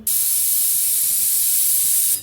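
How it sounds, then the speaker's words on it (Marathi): A kitchen pressure cooker full of rice vents steam in one loud, steady hiss that starts abruptly, holds for about two seconds and cuts off, with no talking. "तर बघा आपल्या भाताची शिट्टी अशी गेलेली आहे"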